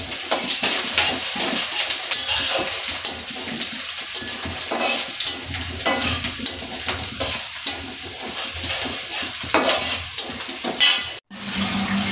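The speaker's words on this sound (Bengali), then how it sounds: "মশলা কষানো হয়ে যাচ্ছে" Spices frying and being stirred in a pan in a village kitchen, a steady loud sizzle broken by repeated scraping strokes of the spoon, ending abruptly in a brief louder burst of hiss.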